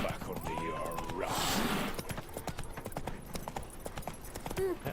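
Roach the horse in Witcher 3, a steady clip-clop of hoofbeats at a quick gallop, close and fairly loud, with a brief whoosh and a short vocal sound mixed in.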